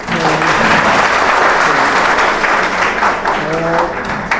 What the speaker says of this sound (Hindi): जोरदार एक बार तालियां हो जानी चाहिए